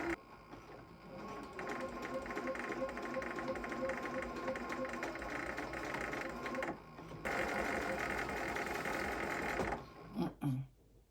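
A sewing machine stitches in a zipper, humming in a long continuous run up close, breaking off briefly partway through before resuming and then stopping with a few soft clicks.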